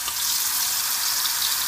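Dried chile browning in a tablespoon and a half of hot oil for red pozole, giving off a steady, close, even sizzle that holds without a break.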